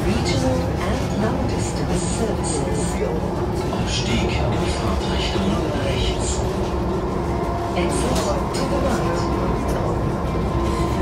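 Frankfurt subway train running at night, a steady loud rumble and rail noise throughout with faint voices in the background.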